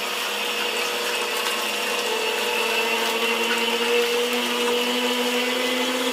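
A Juicepresso juicer presses carrots, peppers and leafy greens, giving a steady motor whine with a low grinding hum that holds constant from start to end, with no talking.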